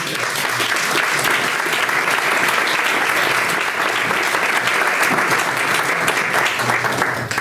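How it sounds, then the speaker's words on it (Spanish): Loud, sustained applause from a crowd at the inauguration of a sculpture of Sancho Garcés in Andosilla, steady clapping filling the whole stretch without a break. "Así le damos un aplauso a Manex."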